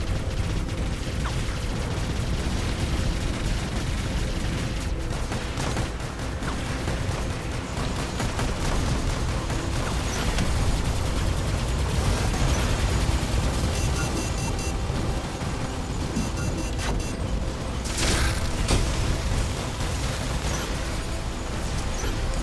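Continuous dense weapon fire and explosions from the robot combat video game War Robots, a steady barrage of rapid shots and booming blasts with a few sharper bursts near the end, fairly quiet overall.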